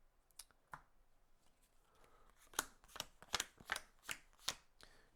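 A deck of playing cards for the Marvel Champions card game being shuffled at close range, a run of sharp riffling snaps and clicks repeating in quick bursts, fairly quiet, with no talk.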